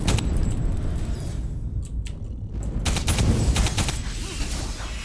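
Bursts of assault rifle fire from the sci-fi shooter game Alien Breed: Impact, several sharp rattling volleys with brief pauses between them over steady game background noise.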